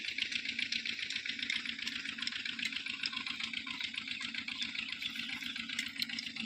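An old village engine drives a chaff cutter machine through a belt. It runs steadily nearby with a rapid, even knocking beat and mechanical rattle, and no voices are heard.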